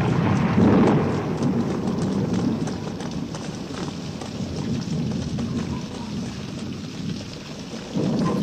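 Heavy rain pours steadily at sea during a thunderstorm, with low rumbling thunder running underneath and swelling louder near the start and again at the end.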